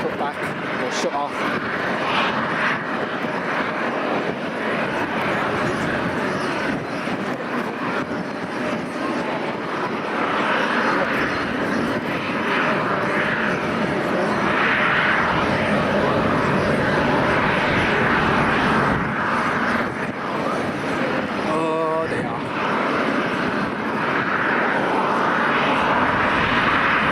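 Aircraft engines roar continuously at Amsterdam Schiphol Airport, a loud broad jet rumble swelling and easing across the whole stretch while people talk over it.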